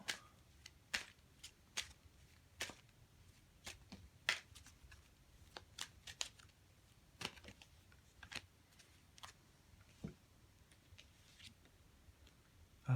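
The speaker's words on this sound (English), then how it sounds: "I'm going to pull some animal cards as well." Animal oracle cards being shuffled and pulled from a deck, a run of quiet, crisp flicks and taps at irregular intervals, close and soft with no talking.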